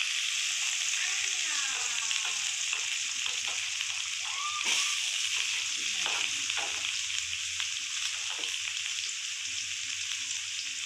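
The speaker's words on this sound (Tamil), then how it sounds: "தேவையான அளவு வெங்காயம் போட்டு கருவேப்பிலை போட்டு வதக்கிக்கலாம்." Onions and curry leaves sauté in a hot pan with a steady, loud sizzle and occasional scraping stirs, close and continuous, with no talking.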